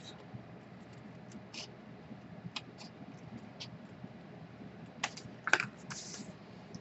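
Scissors cut paper for a handmade envelope page, quiet close snips with a sharper cluster of cuts near the end over a faint background hiss.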